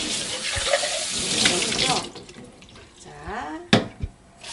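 Tap water runs into a kitchen sink while a baby bottle is rinsed and washed, a steady close splashing that fades to softer trickles and handling clatter, with brief quiet speech in between.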